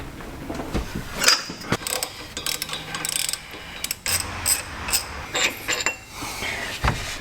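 Wrench clicks and metallic clanks as the crank pulley bolt is loosened on a Land Rover LR4 during timing chain replacement, with a sharp ratcheting burst near the start and scattered clicks and knocks after, close by with no talk.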